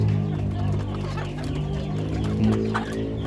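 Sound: native chickens clucking while being fed corn

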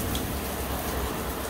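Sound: heavy rain falling

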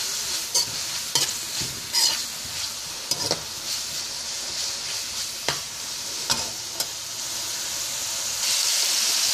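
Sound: onion and garlic frying in a pan

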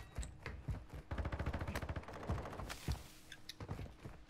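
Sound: gunfire in Call of Duty Modern Warfare 2 video game

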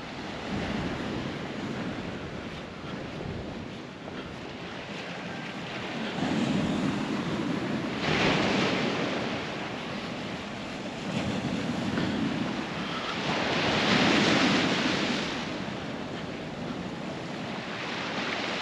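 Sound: sea waves on the shore in a Crete village

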